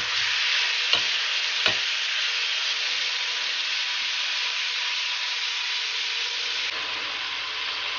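Onion and tomatoes fry in a pan for pork sinigang with a continuous bright sizzle and hiss, broken early by two sharp utensil knocks against the pan. Nobody speaks.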